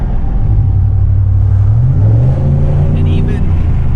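A Dodge Charger engine drones loudly and steadily from inside the vehicle during a launch, its exhaust note rising slightly in pitch as it accelerates.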